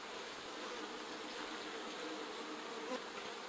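Honey bees buzz around a bee hive in a steady, dense drone, fairly faint and continuous with no talk.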